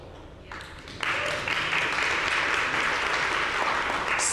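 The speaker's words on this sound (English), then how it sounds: "So we have an enthusiastic crowd here" An audience at a talk on tariffs breaks into applause that swells suddenly after a quieter start, then holds as dense, steady clapping.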